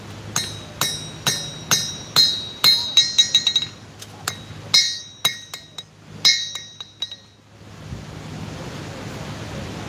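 Hammer blows on metal being flattened ahead of riveting by a knightsmith, a rapid series of ringing, clinking strikes that bunch into quick flurries, then stop with a soft hiss of background noise.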